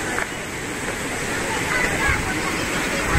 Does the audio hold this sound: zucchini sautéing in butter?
no